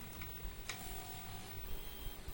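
A self-assembled 3D printer built from an earlier Prusa clone, on a full metal aluminum frame with 30-30 extrusions, runs steadily up close. It gives a soft ticking and whirring with faint stepper tones and no voices.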